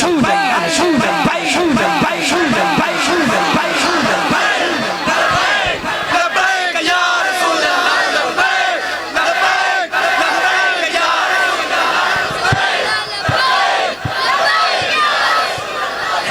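A large crowd at a live naat gathering in Jhang loudly chanting the devotional slogan Labbaik ya Rasool Allah in repeated rhythmic calls, led by a voice and answered in unison, with cheering swelling throughout.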